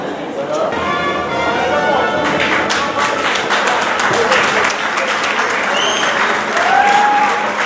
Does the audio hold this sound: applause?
yes